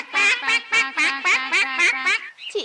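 Several cartoon ducks quack loudly and close in a fast, steady run of about eight nasal calls, then stop briefly before a last short squawk.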